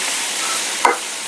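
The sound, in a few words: frying green chillies and onion in oil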